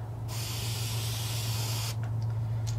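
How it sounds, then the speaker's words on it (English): Airbrush spraying green paint onto a blank crankbait fishing lure, one steady close hiss lasting under two seconds over a constant low hum, then a few faint clicks. "Start blowing that green."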